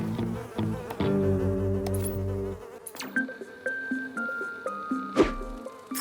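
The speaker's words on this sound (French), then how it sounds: "C'est étrange, toutes ces mouches autour de Sam." Cartoon flies buzz around a character, with high whining drones weaving and shifting in pitch over short musical tones, fairly quiet with no talking.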